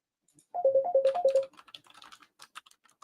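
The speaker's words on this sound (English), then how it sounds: "I hear you're beeping there, Steve." A quick run of about ten short electronic beeps in a bouncing pattern, loud and close, followed by faint clicking and tapping.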